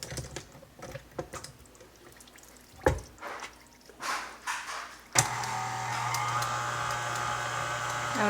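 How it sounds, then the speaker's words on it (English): Light clicks and bumps come first, then an electric mixer with a whisk attachment starts up and whirs steadily and loudly through cake batter for the rest of the clip. "I'm going to mix this on like medium for 2 minutes."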